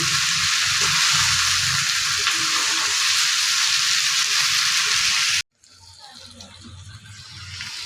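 Taki fish bharta stirred in a frying pan produces a loud, continuous close sizzle that cuts off abruptly, then a quieter hiss slowly builds again.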